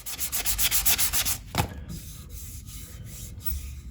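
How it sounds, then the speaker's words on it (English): Rhythmic rasping strokes of sandpaper against spalted crab apple wood spinning on a lathe, fast and regular at first, then a softer, steadier scraping hiss with occasional brief pauses. "I'm gonna start sanding."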